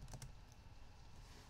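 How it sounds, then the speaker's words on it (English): Computer keyboard typing a git commit command: a quick burst of a few key clicks at the start, faint and close, over low room hiss. "Now I'm gonna type in Git Commit."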